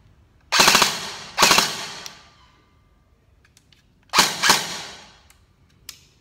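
An E&C EC103S airsoft rifle fires short full-auto bursts, two quick close bursts followed by a pause and another pair, loud rapid cracks with sharp onsets in a quiet room.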